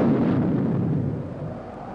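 Deep, rumbling blast effect from a black-and-white science fiction film trailer, a loud sustained roar that slowly fades over two seconds, with no speech over it.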